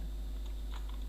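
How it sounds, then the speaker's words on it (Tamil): Computer keyboard typing during an HTML coding lesson, a steady run of soft, close key clicks heard alone with no talking. "ஒரு டெக்ஸ்ட் டைப் பண்ணுறேன்."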